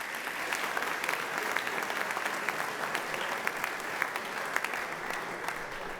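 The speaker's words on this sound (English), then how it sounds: "One more round of applause for both of our academic winners tonight." Sustained audience applause at an evening awards ceremony honoring academic winners, steady dense clapping from a large crowd with no talk over it.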